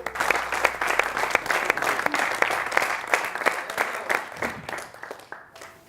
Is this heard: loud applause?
yes